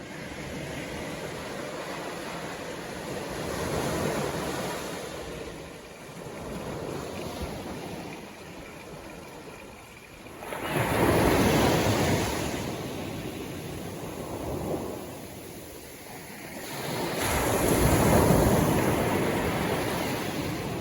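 Waves wash onto a small beach on the Cornish coast path, surging loudly in slow swells over steady wind noise, with no voices.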